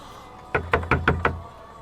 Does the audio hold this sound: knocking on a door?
yes